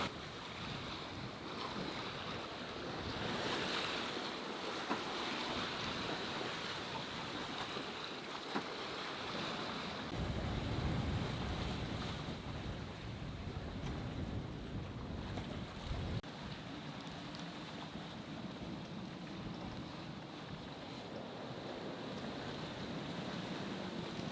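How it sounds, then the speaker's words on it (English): Wind and waves at sea aboard a Beneteau 423 sailboat, a steady broad roar of gusts buffeting the microphone with swelling surf and hull wash throughout, no voices. "the wind and the waves have definitely picked up"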